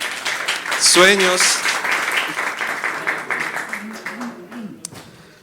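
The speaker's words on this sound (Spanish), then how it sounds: "démonos un aplauso todos aquí" A church congregation at a Sunday service applauds, with clapping filling the room beneath a speaking voice and a brief sung or exclaimed phrase near the start.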